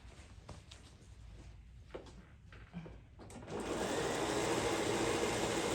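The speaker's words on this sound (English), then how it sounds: "What I am doing is I am using a zigzag stitch." Domestic sewing machine stitching a zigzag through a quilt with a walking foot, first a few soft clicks and handling sounds, then a steady loud whirring run starting midway and holding to the end.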